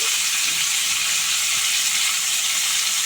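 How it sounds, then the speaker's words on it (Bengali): Pointed gourd (potol) frying in salt under a lid in a covered pan, a constant dense sizzle and hiss, close and loud, running unbroken with no voices. "ঢাকা দিয়ে ভাজবো পটলগুলো"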